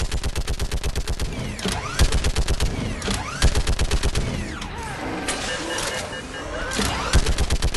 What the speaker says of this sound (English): brutes are quite easy to kill when given a freaking turret